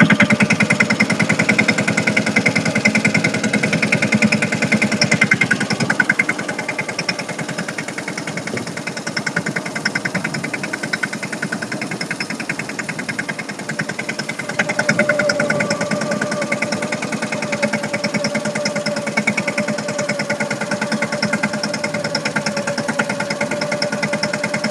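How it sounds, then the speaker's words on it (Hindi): A mini tractor engine runs steadily in a field while towing a trolley and driving an opener attachment, a loud continuous mechanical drone and knocking clatter lasting throughout, with no talk. "ये देखो यहाँ पर है ट्रॉली और यहाँ चल रहा है ओपनर।"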